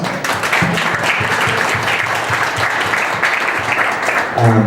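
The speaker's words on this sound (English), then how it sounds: "everyone give them a round of applause" An audience at a tech industry panel event applauds the panelists with loud, continuous clapping that fills the room, fading near the end as a voice begins.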